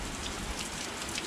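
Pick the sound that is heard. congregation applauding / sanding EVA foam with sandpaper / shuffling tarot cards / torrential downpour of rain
torrential downpour of rain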